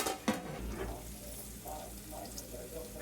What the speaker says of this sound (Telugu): జీలకర్ర, మెంతులు వేసి ఫ్రై చేసుకున్న తర్వాత 2 ఆనియన్స్, పసుపు, ఉప్పు వేసి మగ్గించాలి